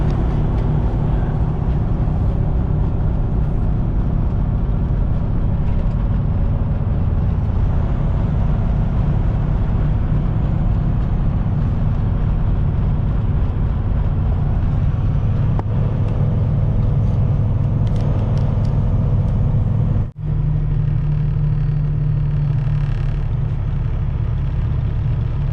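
Heavy stop-and-go traffic on Highway 401 in Ontario heard from inside a heavy-haul truck cab, a continuous loud low engine rumble and idling drone with passing-vehicle hiss, steady for the whole stretch.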